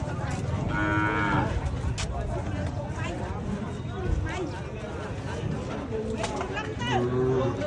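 Cattle and buffalo low repeatedly at a busy livestock market, with loud moos rising over a constant crowd hubbub and a trader's voice calling out nearby.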